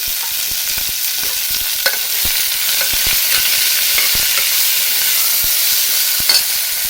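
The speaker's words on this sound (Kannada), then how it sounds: "ಈಗ ನಿಮ್ಗೆ ಎಷ್ಟು ಬೇಕೋ ಹುರುಳಿ ಕಾಳು ಅಷ್ಟು ಹಾಕಿ ರೋಸ್ಟ್ ಮಾಡ್ಕೊಳ್ಳಿ" Horse gram roasting in a pan with onion and curry leaves gives a steady close sizzle, with frequent sharp scrapes and clicks from stirring scattered throughout and no voice.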